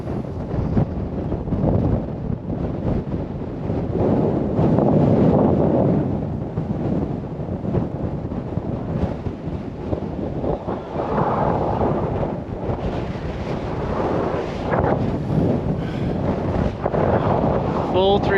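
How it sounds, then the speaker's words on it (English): Strong wind on an exposed hilltop at Blue Mounds State Park in Minnesota, roaring and buffeting the microphone in heavy low gusts that swell and ease throughout, with brief talk now and then. "it is windy up here."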